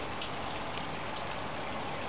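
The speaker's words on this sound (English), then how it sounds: "Rain, rain, rain." Steady rain falling outdoors, a soft, even hiss of drops without pause, faint and unbroken across a couple of seconds.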